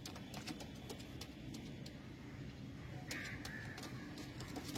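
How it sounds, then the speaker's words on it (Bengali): Old adult pigeons coo faintly through a steady background hiss, soft and somewhat distant, with no talking. "ওল্ড জেনারেশনের ধাড়ি পায়রা"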